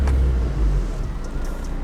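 Engine and road rumble from a Honda RSX DC5 fitted with an Acuity two-way shifter, driving steadily, a loud low drone close by with no speech over it.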